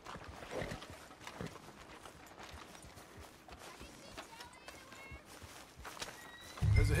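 A horse walking in Red Dead Redemption 2, its hoof clip-clops running steadily under game ambience, with people talking over it and a louder thump near the end.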